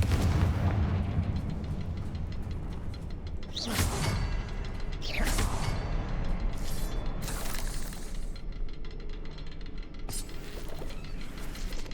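Fiery Confringo spell blasts in the video game Hogwarts Legacy, a few sharp bursts and booms going off over a rumbling game soundscape, with no voices.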